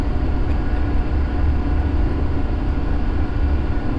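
Inside an airplane cabin in the Aerofly FS 4 flight simulator game, a loud, constant low rumble with a steady engine drone holds evenly throughout, with no voices.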